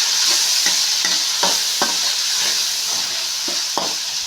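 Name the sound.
stirring turmeric into frying egg tomato curry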